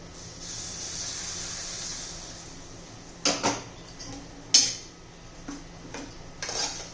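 Hot tadka tempering hits a green chilli thecha with a soft, sustained hiss, followed by a few sharp metallic clinks and scrapes of utensils nearby.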